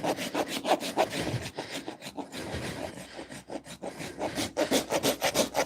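A goat's hoof being trimmed in a hoof trimming station gives a steady, close scraping and rasping, with repeated rough strokes like filing wood and no talk.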